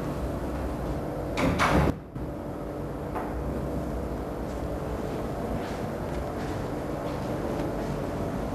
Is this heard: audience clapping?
no